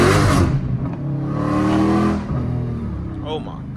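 A Dodge Demon engine revs hard, a loud throaty roar building and falling twice in close succession, with the driver's voice partly over it.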